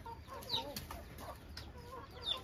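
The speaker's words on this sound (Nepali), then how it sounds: "हाम्रो घरको कुखुराहरू खोइ ठुलो भाले आएकै छैन" Household chickens cluck in short, scattered bursts close by, with a few higher calls mixed in, all fairly quiet against a faint steady background hiss.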